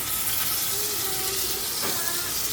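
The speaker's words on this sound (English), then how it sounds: "I'm gonna sear it." A salted chuck eye steak searing in very hot olive oil gives a loud, continuous sizzle and hiss with faint crackles throughout, close up and steady.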